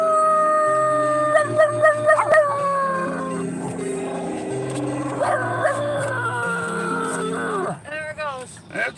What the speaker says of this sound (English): Okay, enough dogs.